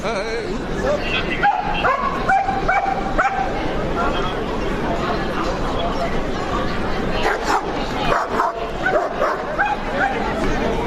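Several dogs in Brussels bark, yip and whimper close by in short overlapping bursts, with people chattering among them.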